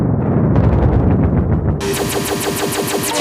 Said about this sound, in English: fire up the hot take